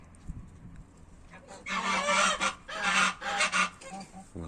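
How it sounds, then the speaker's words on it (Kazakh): After a quiet start, geese break into loud, repeated honking in several overlapping bursts, close by and raucous. "Қаздарымыз әніп тұр."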